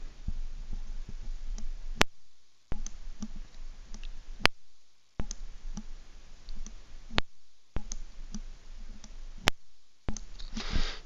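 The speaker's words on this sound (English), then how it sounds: "Going to test the mic mute pop." Sharp, isolated mic mute clicks from a SteelSeries Arctis Nova Pro headset every second or two, each dropping into brief near-silence, over a low background hiss; close and fairly loud.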